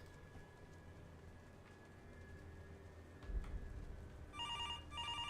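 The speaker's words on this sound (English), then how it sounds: "Answer the phone. Where's the fucking phone?" Low eerie drone and a thump in a spooky horror video game, then a ringing telephone bell starts near the end with two brief rings.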